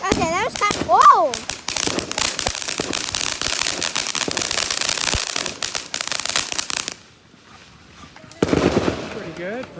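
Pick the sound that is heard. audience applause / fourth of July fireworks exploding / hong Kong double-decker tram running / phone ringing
fourth of July fireworks exploding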